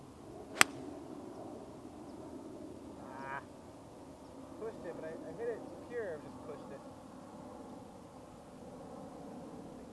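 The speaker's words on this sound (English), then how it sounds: "So I'm gonna hit a 4-iron here" A golf ball is struck once with a 4-iron from a sloping lie on a course: a single sharp, crisp crack early on, then quiet outdoor ambience with faint voices.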